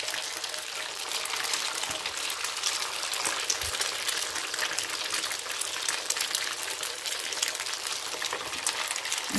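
Thai fish cakes (tod mun pla) frying in hot oil, a dense, even crackling sizzle held steady throughout, close and moderately loud with no talking.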